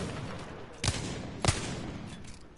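Two sharp gunshots ring out in Apex Legends about half a second apart, standing out moderately over a faint, steady bed of in-game background noise.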